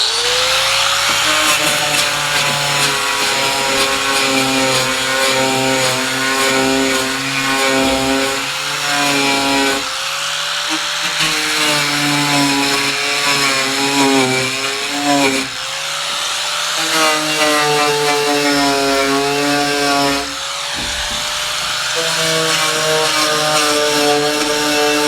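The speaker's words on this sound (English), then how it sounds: "But I think the rotary grinder with the wire twist on it, I think it's going to be a better option." A Bauer rotary grinder with a twisted wire brush scours a rusty metal barn roof, its high whining motor loud and close, dipping in pitch under load in repeated passes around every five seconds.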